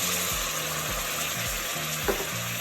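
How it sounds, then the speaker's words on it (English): Water poured onto sugar in a hot pan for candy grapes hisses and sizzles in a steady, loud crackle, with a brief clink of stirring near the end and no talking. "See, I already have my pan hot."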